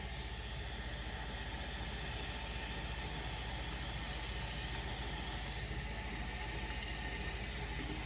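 Cold water pouring steadily onto coffee grounds for cold brew, a continuous broadband rushing hiss lasting throughout, fairly close and even in level with no pauses.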